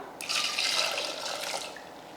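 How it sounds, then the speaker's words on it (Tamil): Water pours into a cooking pot holding lentils and tomatoes, a steady soft splashing stream that runs continuously and fairly quietly throughout. "சேர்த்துட்டு தண்ணி ஊற்றிடலாம்"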